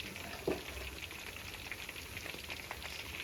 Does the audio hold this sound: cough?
no